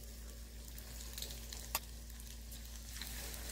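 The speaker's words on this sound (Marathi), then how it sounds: "व्यवस्थित असे तळून घ्यायचे" Egg fritters (bhaje) frying in hot oil over a low gas flame, a soft, steady sizzle and faint crackle with one small sharp pop partway through, quiet and close.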